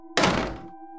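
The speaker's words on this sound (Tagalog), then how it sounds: "Pagkalabas namin ng kwarto niya ay kusaring sumara yung pinto ng kwarto." A bedroom door slams shut on its own with one heavy, loud thud that fades quickly, set against a steady low humming drone.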